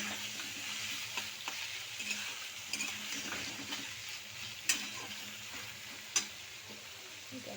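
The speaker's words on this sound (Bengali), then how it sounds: "এবার আমি এগুলো ভেজে নেব।" Pieces of elephant foot yam rubbed with salt and turmeric fry in a pan, giving a soft, steady sizzle with a faint hiss, occasional light stirring taps and two sharper clicks against the pan, no voices.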